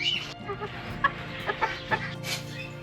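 Faint, scattered clucks from a rooster on an eco-farm in Peru, in a quiet outdoor setting, a few short calls spaced irregularly.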